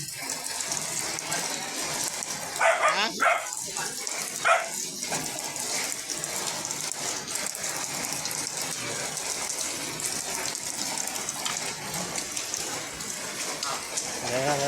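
Heavy rain pours down steadily on surfaces in the Philippines, a dense continuous hiss close by, with a few brief sharp sounds like a dog's barks early on.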